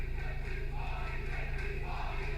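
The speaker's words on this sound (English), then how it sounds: "And the crowd here mixed with chants of TJP and Swann." A wrestling crowd at a live show, steady and dense, with mixed chanting for TJ Perkins and Rich Swann rising and falling throughout.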